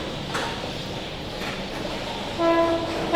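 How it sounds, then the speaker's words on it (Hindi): A Tejas Rajdhani express train overtaking at speed gives a steady rushing rumble of wheels and wagons, with a loud horn-like tone sounding briefly near the end. "ये देखो भाई साहब, अच्छी खासी रफ्तार में तेजस राजधानी करेगी ओवरटेक।"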